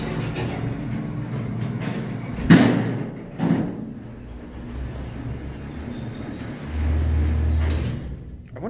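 Hydraulic freight elevator at the University of Denver's Newman Center, its door giving a couple of sharp metallic clanks followed by a rumbling slide and a low steady hum near the end, heard close in a quiet space.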